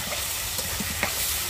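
Shrimp fries in plenty of hot oil with a loud, continuous close-up sizzle, marked by a few small pops and spatters.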